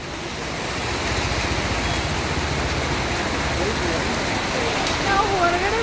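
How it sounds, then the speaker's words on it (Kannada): Rain falls outdoors as a dense, steady hiss of broadband patter that swells early and then holds at an even level, with a faint voice rising briefly near the end. "ನಾವು ಹೊರಗಡೆ ಬಂದಾಗ ಮಳೆ ಬಂತು"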